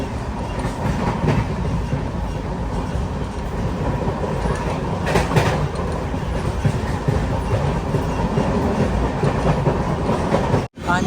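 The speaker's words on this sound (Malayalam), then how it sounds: "ട്രെയിൻ ഇപ്പം 110 km/h സ്പീഡിലാണ് സഞ്ചരിക്കുന്നത്" Netravati Express running at about 110 km/h, heard from inside a sleeper class coach between Tirunavaya and Tirur: a steady, loud rumble with rhythmic wheel clatter that continues throughout the clip.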